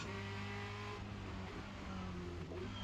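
Formula Renault 2.0 race car engine in the iRacing sim at Spa-Francorchamps, a steady close buzzing drone that drops in pitch near the one-second mark as the driver brakes and downshifts, then rises and holds again.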